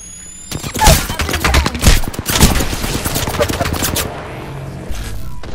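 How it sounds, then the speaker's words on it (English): Rapid bursts of enemy gunfire in an Apex Legends match, loud and dense sharp shots crackling for most of the stretch, with some rattling automatic fire and a brief burst near the end. "The enemies are shooting at me."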